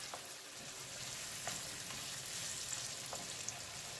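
A bacon and sour cream sauce for fusilli is stirred slowly in a pan, with a soft, continuous sizzle and a few faint clicks of the utensil, close and quiet with no talking.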